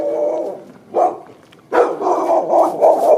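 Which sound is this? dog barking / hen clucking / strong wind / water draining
dog barking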